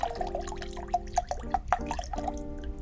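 Rum glugs out of a small two-ounce bottle in a cocktail kit, a close series of uneven gurgles and splashes lasting a few seconds, with nobody speaking.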